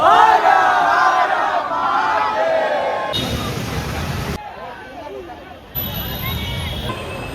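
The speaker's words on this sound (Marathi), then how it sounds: "परळ वर्कशॉपच्या साईडला पण भरपूर गर्दी आहे" A large, loud crowd cheers and shouts along the street during a Mumbai Ganpati arrival procession near Parel Workshop in heavy rain, with abrupt shifts in the din.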